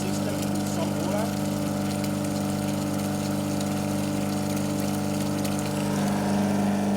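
A Rainman watermaker pump runs steadily, rinsing the system with salt water out through the brine hose, a constant mechanical hum with a faint gushing layer, close and unbroken throughout.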